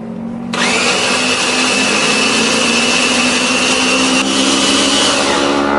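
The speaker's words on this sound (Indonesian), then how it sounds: "Nah, ini sudah selesai, kita akan chopper semua bahan jadi satu." An electric food chopper runs continuously while chopping cooking ingredients together, starting abruptly with a loud, steady whirring motor hum that holds without a break.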